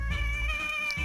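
A cat meowing, one drawn-out, wailing meow that is close and clear, sounding hungry, with no voices.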